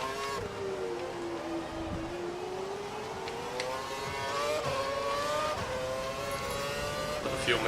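F1 race car engine in the F1 2012 racing game at Malaysia, a sustained high-pitched whine that climbs steadily through the revs, heard continuously with no pauses.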